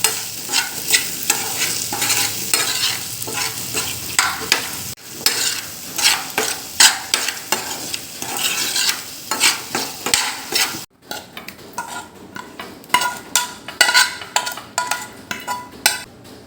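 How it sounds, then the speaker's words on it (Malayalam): Raw mango being stirred in a frying pan, a spoon scraping and clattering against the metal over a soft sizzle, steady busy stirring close by with a brief pause partway through. "ഇനി ഇത് നന്നായി മിക്സാക്കാം."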